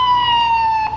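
A civil defense tsunami warning siren in Hawaii gives a loud, steady, single-pitched wail that holds nearly flat and dips briefly near the end.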